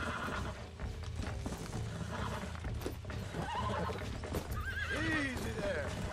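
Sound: horse neighing during taming, from video game Red Dead Redemption

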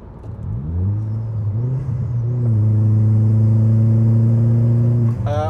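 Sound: Vauxhall Zafira engine restarted and revving while driving

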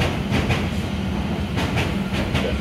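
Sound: London Underground Metropolitan Line train running

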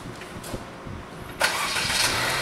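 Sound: car engine starting

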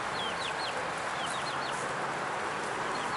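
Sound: chickens and rooster by a roadside

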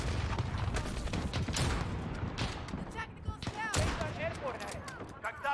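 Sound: gunshots in the video game Call of Duty Modern Warfare

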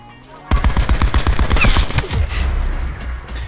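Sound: gunfire from a video game shooter

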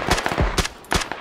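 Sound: gunfire from teams fighting in a video game

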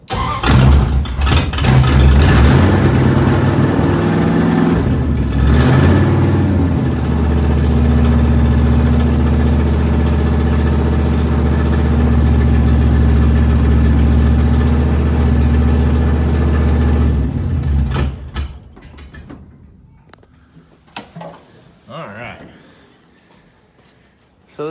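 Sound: 1971 Plymouth Barracuda engine idling with open headers

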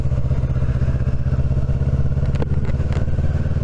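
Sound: motorcycle with Scorpion end can exhaust riding

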